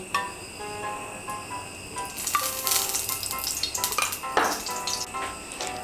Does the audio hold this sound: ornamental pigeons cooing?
no